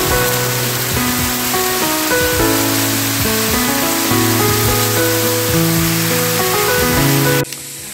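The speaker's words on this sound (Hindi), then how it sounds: "देखिए ऊपर से इतना ऊपर से पानी गिर रहा है ना" A high waterfall in a Lunglei jungle roars as a steady, loud wash of falling water, with a sustained musical tone layered over it before cutting off near the end.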